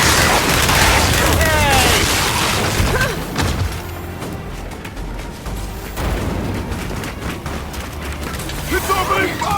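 Enemy machine opening fire in Gears of War 5, loud dense bursts and booms with mechanical clatter running throughout, under excited shouting voices.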